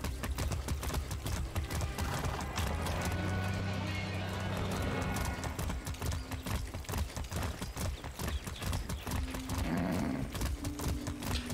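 A horse gallops in the video game Far Cry 6, with steady rhythmic hoofbeats running throughout over game music and ambience, plus a neigh, close and prominent.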